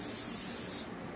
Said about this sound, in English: But I need to spray it with some Pam first.